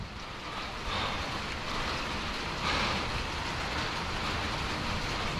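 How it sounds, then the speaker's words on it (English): Steady rain pours down on a lakeside fishing spot during a midday bait-fishing run, a dense continuous hiss with no one speaking. "The rain is here, y'all."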